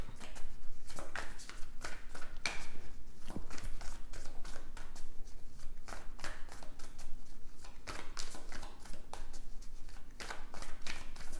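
Tarot cards being shuffled for a draw make a dense run of quick papery flicks and riffles at close range, keeping an uneven rhythm throughout with no voices.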